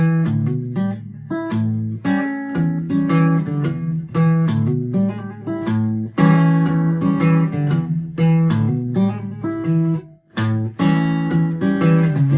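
Fingerstyle guitar playing a lick with a hammer-on, picked notes ringing out in a steady, bouncy rhythm, close and clear with no talking, and a brief pause near the end before it resumes.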